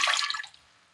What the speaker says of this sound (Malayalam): അത് വേകുവാൻ ആവശ്യമായ അല്പം വെള്ളം ഒഴിച്ചു കൊടുക്കാം